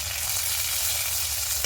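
Kulke greens hit hot oil in a pan with fried chillies, a loud, dense, continuous sizzle close up, with no voices.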